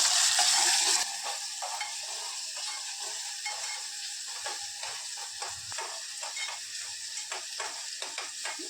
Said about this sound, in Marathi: टोमॅटो आणि कांदो चांगलं व्यवस्थित चांगलं भाजून घ्यायचं